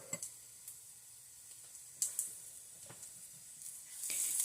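Onions frying in a pan give off a faint, steady sizzle, broken by soft scraping stirs and a few sharper clicks of the utensil, with no one speaking.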